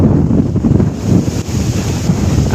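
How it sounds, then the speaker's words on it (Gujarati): Strong wind buffets the microphone in a loud, gusty roar over a millet field, rising and falling in uneven bursts with no voices. "જો પવન છે બહુ."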